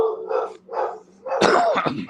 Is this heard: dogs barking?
yes